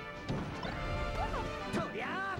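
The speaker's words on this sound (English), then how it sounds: "Why are you forward smashing, Brad?" Forward smash landing in Super Smash Bros. Melee at a tournament, a sharp crash-like hit amid quick game effects, with commentators talking over it.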